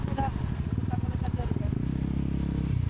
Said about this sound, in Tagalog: Napatry sa akin ni Kuya Rain itong motor niya.